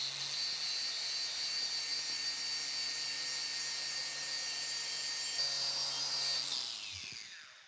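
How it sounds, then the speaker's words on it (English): An angle grinder spins a twisted knot wire wheel against cast iron on a broken vise, giving a steady high whining buzz with a constant harsh scratch that holds for several seconds, then winds down at the end. "I just got a twisted knot wire wheel on an angle grinder here."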